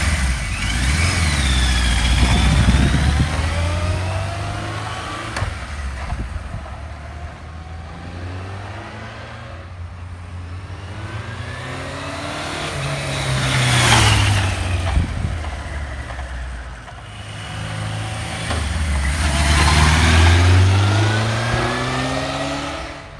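A 1977 Kawasaki KZ1000A motorcycle engine runs close by, idling and then revving up in several swelling bursts before settling back to a steady idle each time.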